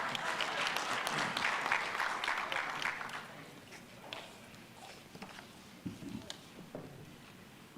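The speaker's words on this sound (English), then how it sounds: "let's give Wabumnai a good round of applause" A round of applause from a conference audience, a dense, moderately loud burst of many hands clapping that fades after a few seconds into scattered claps and shuffling room noise.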